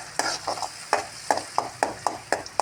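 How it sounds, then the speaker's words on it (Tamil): A ground coconut-chilli paste with onion and cumin is stirred in a hot pan for a radish dish, about nine quick, evenly spaced scraping strokes over a soft sizzle. "நல்லா கிளறி விட்டுட்டு"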